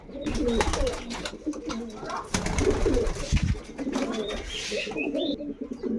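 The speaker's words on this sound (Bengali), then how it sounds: "নর পায়রা, আর এই যে নর পায়রাটা দেখুন, আর এই যে মাদা পায়রাটা।" Domestic pigeons kept for sale, male and female birds, coo in soft repeated rolling calls amid rustling, fluttering and background bustle, with voices faintly present.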